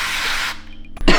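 Chili spray hisses out in a short, bright burst onto food being seasoned, close and loud, lasting about half a second before a brief clatter.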